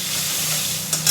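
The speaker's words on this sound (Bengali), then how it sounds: "বেগুনটাও ভেজে নিই একসাথে। একটু নুন দিয়ে দিই পরিমাণ মতো, হলুদ দিয়ে দিচ্ছি। এবার নাড়বো" Eggplant sizzles steadily in a hot pan with salt and turmeric, a close, even frying hiss that swells briefly as it is stirred near the end.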